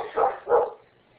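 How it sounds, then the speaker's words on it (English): A dog barks twice in quick succession, fairly close and clear, during a science lesson on acids and bases; no one speaks over it. "Sorry about the barking dog"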